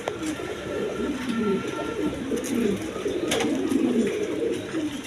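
Lalgiri pigeons coo in low, rolling murmurs, several birds overlapping continuously at close range, with faint clatter in the background.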